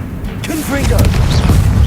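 A spell blast in Hogwarts Legacy, the Confringo explosion, rising into a loud low boom and rumbling roar after a brief spoken incantation and some whooshing effects.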